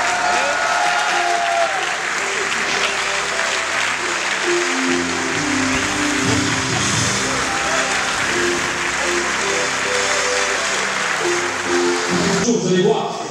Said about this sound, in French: Nous accueillons, avec un tonnerre d'applaudissements